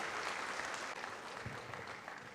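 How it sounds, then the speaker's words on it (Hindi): Audience applause welcoming the Governor, Arif Mohammad Khan, at a regional official language conference, steady dense clapping filling the hall throughout. "जोरदार तालियों से माननीय राज्यपाल महोदय का स्वागत कीजिए।"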